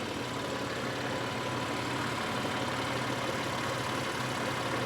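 A BMW M4 F8x with high mileage idles steadily, its engine giving a smooth, even low hum heard close up for several seconds with no talking.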